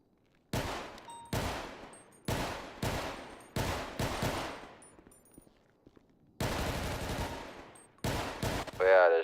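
Rapid volleys of gunfire at an outdoor shooting range, loud, close bursts following one after another with short decaying echoes and brief pauses between strings.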